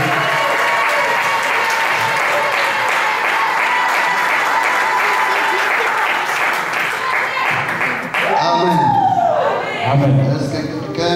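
A church congregation applauds loudly and continuously, a dense wash of clapping with cheering voices, before the crowd noise drops and a single voice briefly rises over it near the end.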